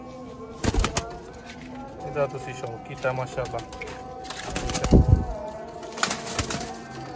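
Sialkoti pigeons on a rooftop give low cooing calls and bursts of wing flapping, close and intermittent, while someone talks over them.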